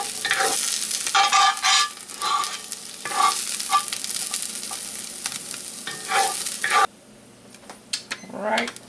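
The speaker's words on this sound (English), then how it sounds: "Now I'm going to take these veggies and I'm going to put them on top of my sausage" Chopped vegetables are stirred into a hot pan on top of sausage for a duck and oyster gumbo, giving a loud steady sizzle with scraping stir strokes, then a sudden drop to quieter frying near the end.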